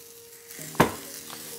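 Buckwheat groats toast in a pan, giving a soft, steady sizzle with one sharp stirring scrape near the middle and quieter scraping after it.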